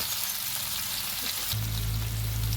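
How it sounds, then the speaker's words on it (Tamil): Sardine fish coated in masala frying in a pan, a steady close sizzle that swells louder partway through, with a low hum running underneath. "இப்போ மீனை திருப்பி விட்டுக்கலாம்."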